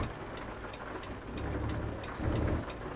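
Steady rain in Euro Truck Simulator 2, a dense hiss of drops washing over the truck cab with a low rumble underneath, swelling slightly louder toward the end, no voices.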